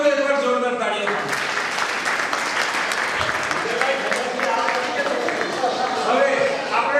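A pilgrimage tour group claps together in a brisk, sustained burst at a Jain temple trip gathering, with voices running underneath the applause throughout.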